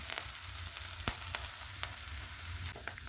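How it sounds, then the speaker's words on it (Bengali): Ginger, garlic and chopped chillies fry in a pan for spicy pasta, giving a steady soft sizzle with a few sharp crackles and clinks of stirring, quiet and alone. "পেঁয়াজগুলো লাল লাল করে ভাজা হয়ে গেলে তারপর আদা রসুন দেবো।"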